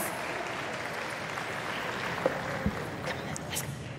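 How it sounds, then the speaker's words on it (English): Quiet audience applause in a large arena at Crufts for a dog activities display team, a soft distant clapping wash with a couple of sharp knocks and brief high squeaks. "Please give a round of applause to my team."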